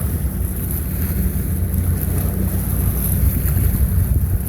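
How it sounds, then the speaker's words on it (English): A large unladen ship moves through a harbor ship channel as a low, steady rumble beneath constant wind buffeting and water noise, continuous and fairly loud for the whole stretch. "Come back around and you can see this ship coming through."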